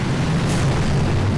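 Gunboat barrage explosions in a tank-and-grenadier strategy game set on a volcano base boom loudly and close, a single heavy rumbling blast filling the short moment.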